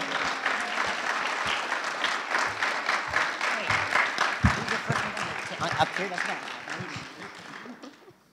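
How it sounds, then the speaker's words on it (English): A crowd at a camp event claps for the camp staff, a steady round of applause sustained through the whole stretch before gradually fading at the end, with scattered voices mixed in. "let's give them a big round of applause also"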